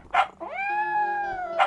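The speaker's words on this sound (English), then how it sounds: "Hey, Kit, come meet our new puppy." A puppy gives short yips at either end of a drawn-out, rising whimpering whine, close and fairly loud, with no talking.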